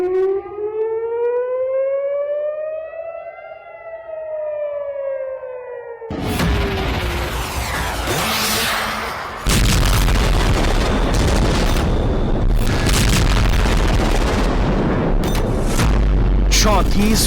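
A civil defense air raid siren wails in rising and falling tones during a Russian missile attack on Ukraine, then gives way to loud booms and heavy blasts of explosions close by.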